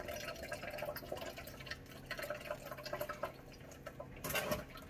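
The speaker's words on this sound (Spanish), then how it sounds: "vamos a estar, miren, colando. Se le saca lo que es la leche al coco" Coconut milk for coconut horchata is strained from hard coconut, with faint close trickling, dripping and splashing liquid and a brief louder pour near the end.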